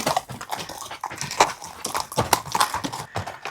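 Horse hooves clip-clop on a rocky mountain trail while hiking in the Chiricahua mountains, an uneven run of close, sharp strikes on stone, with a dog and rustling mixed in.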